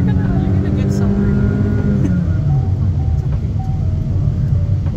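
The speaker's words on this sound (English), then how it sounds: "that's your full throttle with four people" A Honda BR-V seven-seater accelerating at full throttle with four people aboard, its steady engine drone heard from inside the cabin as the pitch climbs and then shifts with a gear change. The drone holds loud and continuous throughout.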